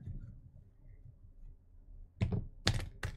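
Tarot cards shuffled by hand, a few sharp riffling bursts and slaps near the end after a quiet stretch of faint room noise, close and fairly loud.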